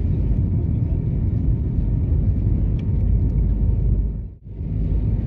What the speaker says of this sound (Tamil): இதே மாதிரி லைட்டாக ஃப்ளைட்டோட சவுண்டு, இன்ஜின் சவுண்டு கேட்டுக்கிட்டே தான் இருக்கும்